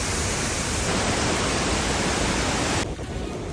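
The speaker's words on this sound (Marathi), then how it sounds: "खूप मस्त वॉटरफॉल आहे हा" A hidden waterfall at Bhavali Dam near Igatpuri pours in a steady, loud, broadband roar that fills the whole clip, dipping slightly near the end.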